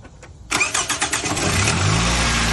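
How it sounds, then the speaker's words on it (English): A high-mileage Toyota Camry with a misfire, oil leaks and a newly changed coil pack cranks with a quick series of rhythmic starter chugs, catches, and settles into a loud steady idle close by. "Can you start the car, please?"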